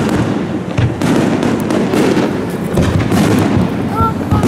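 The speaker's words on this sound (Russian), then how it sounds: "и с корабля пускают салют" Fireworks launched from a ship anchored at sea, a loud continuous barrage of crackling bursts and distant booms rolling without pause, with a voice talking underneath.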